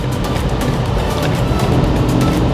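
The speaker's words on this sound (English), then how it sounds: "I better get out of the way of this car because he's kind of dangerous" A car drives past on a busy Dubai street, its steady engine and tyre noise loud and close throughout, with no talk over it.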